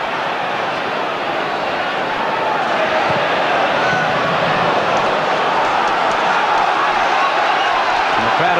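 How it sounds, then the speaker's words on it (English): Football stadium crowd at a League Cup quarter-final between Tottenham and Manchester United, a steady loud roar and chant of many voices filling the ground continuously without a break. "Crowd have found their voices again."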